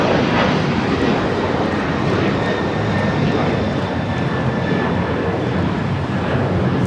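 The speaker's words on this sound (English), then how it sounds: "1348 taking off to Puerto Vallarta on a 737-900ER in the One World livery" Alaska Airlines Boeing 737-900ER in One World livery taking off from Los Angeles airport, a loud steady jet roar filling the whole stretch without letup.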